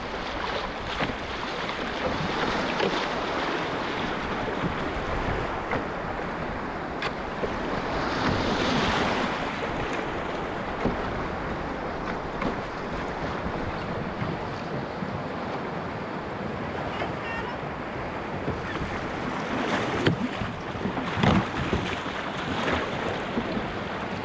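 Whitewater rushing on the Petawawa River near a canoe approaching Crooked Chute Rapids, a steady broadband roar of flowing water with wind buffeting, continuous and fairly close.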